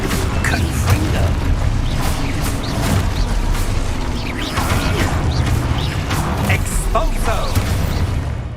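Confringo spell bursts in Hogwarts Legacy, repeated explosive cracks and pops in quick irregular succession with clattering mechanical impacts, loud and steady throughout.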